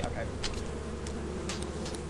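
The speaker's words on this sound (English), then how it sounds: "All the freaking bees, dude." Constant insect buzzing from a swarm of bees in the video game Lethal Company, loud and steady throughout with faint background game noise.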